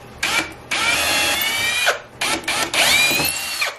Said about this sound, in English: But what I'm gonna do first is I'm going to pre-drill holes